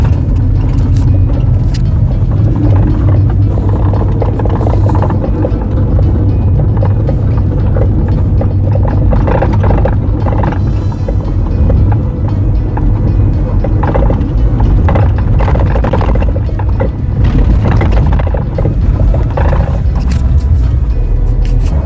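Loud, continuous road rumble inside a moving Mahindra XUV500 on a patchy road, with the rear suspension knocking and thudding irregularly over the bumps throughout; no talk.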